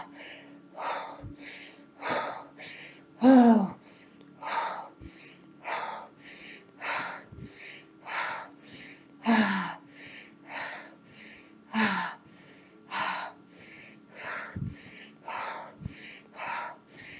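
Rapid rhythmic breathing exercise, second round at a quicker pace: a steady train of about two dozen close, loud sharp nasal inhale-exhale bursts, roughly one every half second, with no talking.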